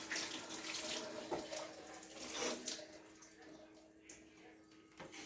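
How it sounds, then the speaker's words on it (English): Tap water runs steadily into a kitchen sink as hands are washed during banana bread prep, a close continuous splashing rush that thins slightly toward the end. "Wash my hands."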